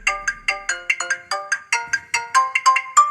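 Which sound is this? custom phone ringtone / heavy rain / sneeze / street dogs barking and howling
custom phone ringtone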